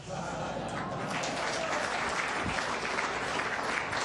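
A steady round of applause from an audience, continuous clapping that holds at an even level throughout.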